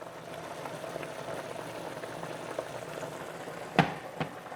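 Water boils in a pan on a Samsung induction cooktop and spills over the rim: a steady bubbling hiss, with a couple of sharp splashy crackles near the end.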